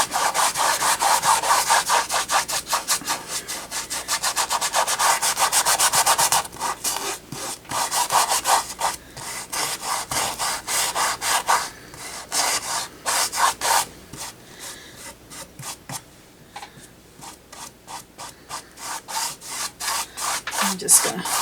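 Brush scrubbing turquoise paint into a painting surface, a continuous close rasping and rubbing with rhythmic strokes that vary in intensity, no voices over it.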